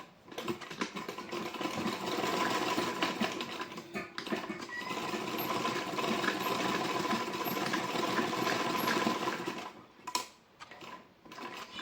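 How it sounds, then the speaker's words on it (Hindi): A sewing machine stitching a blouse sleeve gives a fast, steady mechanical whirr and needle clatter that runs for most of the stretch, stops briefly near the end, then starts again. No talking. "इस तरीके से टर्न करके सिलाई लगा लूँगी।"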